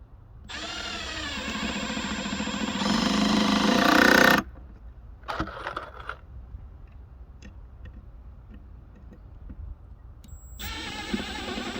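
A power drill drives wide-head screws into the wooden boards of a raised garden bed, with two long whirring bursts, the first rising in pitch, then clicks and handling knocks before another short drive at the end, close and unaccompanied by talk.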